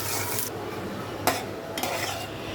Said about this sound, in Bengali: পেঁয়াজ তারপর রসুন দিয়ে বাগারটা দিয়ে দিচ্ছি।